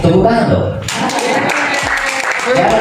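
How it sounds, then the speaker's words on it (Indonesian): An audience at a labour forum breaks into applause, clapping rising after a spoken line and continuing steadily with talk over it. "Tepuk tangan dong."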